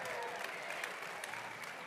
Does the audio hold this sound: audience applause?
yes